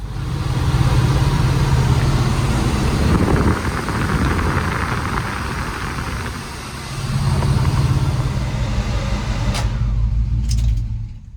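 Squarebody Chevrolet K10 pickup with aftermarket air conditioning out on a test drive, its engine droning loud and steady from inside the cab, easing off midway and then pulling again, with no talking.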